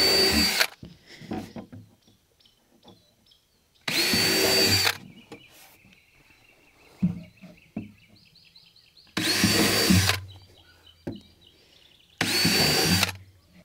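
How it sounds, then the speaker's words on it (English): Power drill boring drain holes at the bottom of the ribs in a homemade feed bunk, heard as several loud whining bursts of about a second each, separated by quieter handling noises and faint tool hum. "come here in the bottom and drill some drain holes."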